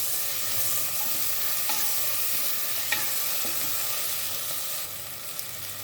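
Chopped onions and small tomato frying in a pan for Kerala kadala chickpea curry, a steady close sizzle with occasional stirring clicks, continuous and fairly loud with no talking.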